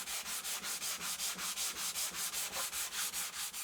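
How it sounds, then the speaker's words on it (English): Rapid, rhythmic back-and-forth sanding on the inside faces of a wooden console table part, close and even strokes at a steady pace with no talking. "I want to sand the inside faces."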